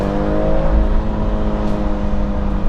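A 2024 BMW 430i xDrive Convertible pulls hard in second gear under full throttle from about 40 mph. Its engine note is a steady, loud, close drone that climbs gently in pitch, with no talking.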